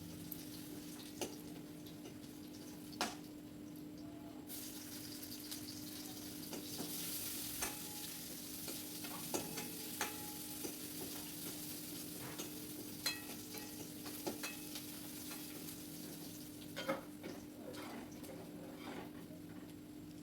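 Garlic frying in a pan and being stirred, a quiet steady sizzle over twenty seconds broken by occasional light scrapes and taps of the spoon against the pan.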